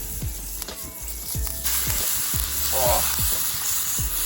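Butter sizzles and spits in a camping pan outdoors during a motorcycle camping trip, the hiss swelling loud and steady partway through, with soft periodic thumps underneath and a brief exclamation from a voice.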